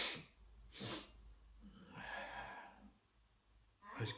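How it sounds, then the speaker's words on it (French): Quiet nasal sniffs and breaths, a few sharp intakes separated by pauses, close and soft, with no talking. "Excusez-moi si vous m'entendez renifler sans arrêt"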